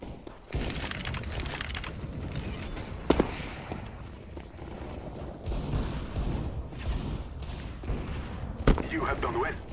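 Video game gunfire from an XM1014 shotgun: several sharp blasts and crackling shots ring out over a dense background of game noise, with a voice talking at times.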